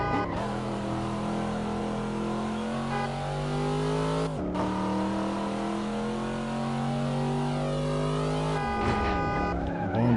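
A million-dollar car in Assetto Corsa revs hard and loud, its engine note rising through gears with a brief dip near the middle, then climbing again, alone without voices.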